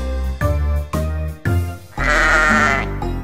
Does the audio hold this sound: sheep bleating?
yes